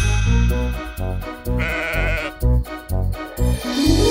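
A sheep bleats repeatedly, several wavering calls in quick succession, close and loud, with no talking.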